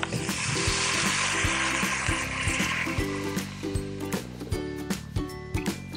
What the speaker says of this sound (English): Then we're gonna add the water.